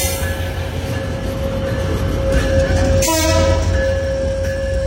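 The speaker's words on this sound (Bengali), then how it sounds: "ট্রেনটি ধীর গতিতে এগিয়ে আসছে" A train hauled by locomotive 6610 approaches slowly at Gendaria station on the Padma Bridge rail line: a loud, close, steady rumble with a sustained whine and a short horn blast midway.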